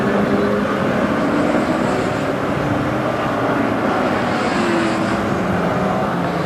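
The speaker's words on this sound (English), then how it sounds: "Looking at the bike cam here on Aaron Slight's bike, he just had a moment and missed one of the corners" Racing motorcycle engine heard from an onboard bike camera during the 1988 Castrol 6 Hour race at Manfield, New Zealand, a loud continuous roar with wind rush, the pitch rising and falling slightly as the rider works through corners.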